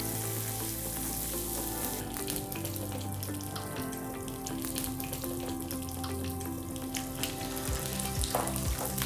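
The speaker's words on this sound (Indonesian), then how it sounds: "Kita akan masak dia sampai luarnya kecoklatan." Corn ribs sizzle steadily in a pan with a little oil, a continuous close frying crackle with occasional stirring clinks and scrapes, and no talking.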